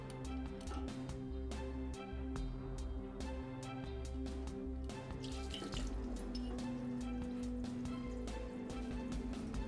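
Coolant trickles and drips steadily from the drain bolt of a motorcycle's cooling system during a radiator and coolant change, a continuous close watery patter with a low hum beneath it and no talking.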